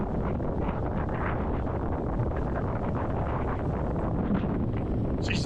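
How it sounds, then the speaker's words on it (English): Strong wind buffets the microphone in a dense, continuous roar on a stormy shoreline, steady and loud throughout with no voices. "It's pretty windy."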